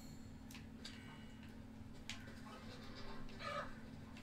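Faint clucking of chickens in a video game village, scattered short calls and ticking sounds over a constant low hum and hiss, with no voices.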